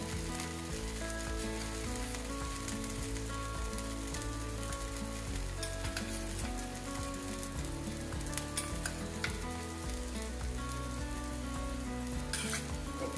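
Food sizzles steadily in a little hot oil in a pan, a continuous close frying hiss that lasts throughout with no pauses.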